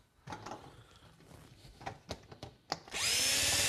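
A power drill drives self-tapping screws into a tube to hold the pipe together. Light handling clicks and knocks come first, then a loud, steady whir of the drill runs close up through the final second.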